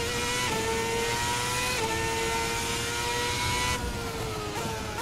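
A Formula 2010 V8 race car engine in a racing sim video game, a loud, continuous high-pitched scream held steady with small shifts in revs as gears change, alone without talk.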